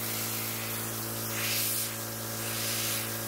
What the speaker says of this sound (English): I noticed a certain part leaking a lot of air